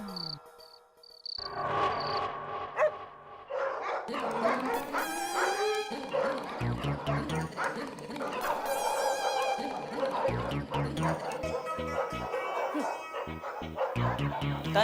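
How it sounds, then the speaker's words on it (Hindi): Several dogs bark at night, sharp repeated barks overlapping near and farther off, with crickets chirping steadily in the background. "ऊपर से कुत्ते भी भौंक रहे हैं।"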